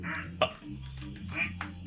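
A rubber duck quacks in a plastic duck simulator video game, giving a couple of short nasal quacks over a steady game hum, close and clear.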